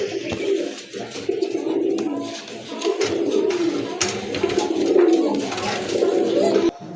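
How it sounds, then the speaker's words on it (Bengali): Pigeons coo nearby in low, rounded, repeated calls that overlap one another, with faint chirps mixed in and no one speaking. "আরেক জোড়া কবুতর দেখতে পাচ্ছেন খুবই চমৎকার এক জোড়া কোয়ালিটি ফুল কবুতর"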